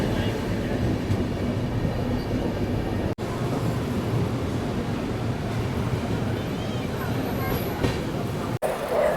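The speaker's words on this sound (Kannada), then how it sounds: "palace queen Humsafar express entry ಆಗೈತ್ರಿ" Humsafar Express train pulling into Vadodara Junction, a steady loud rumble of rolling wagons and rail noise filling the whole stretch, with two brief dropouts.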